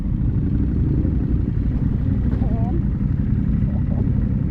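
A KTM Adventure motorcycle rides along at steady speed, its engine droning continuously under heavy wind rush.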